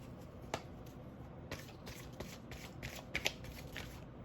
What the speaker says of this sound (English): I'm going to pull another card